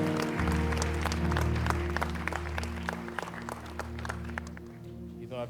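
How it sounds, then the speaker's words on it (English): An audience at a youth church book launch claps for a pastor, a steady spread of hand claps sitting over a low sustained hum of music, fairly even in level before thinning out at the end. "Can we also clap for Pastor Gabe Itodo?"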